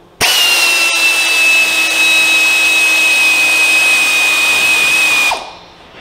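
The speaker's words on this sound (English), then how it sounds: "I'm putting the wheels on with 1-inch lag bolts." A power drill drives a 1-inch lag bolt to mount wheels on a wooden storage unit, one steady, loud, close whine held for about five seconds before it stops abruptly, with no talking.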